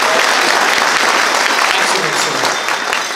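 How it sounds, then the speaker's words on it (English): A concert audience gives the sign guys a big round of loud applause at a show, dense clapping that fills the room and eases off slightly at the end. "Let's just give a big round of applause to the sign guys."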